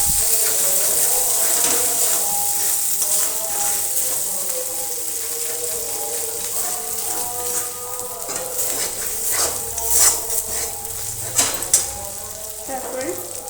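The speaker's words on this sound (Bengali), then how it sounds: "মশলাটা একটু ভেজে নেব।" Spices frying in a pan for a Bengali aloo dum, a steady sizzle with stirring and scraping across the whole stretch, close and fairly loud, with a few louder clinks of a utensil near the end.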